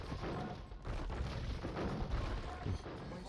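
Bombard cannons firing in Age of Empires II, a dense run of overlapping booms and blasts from a large battle, fairly quiet in the mix, with brief talk in the background.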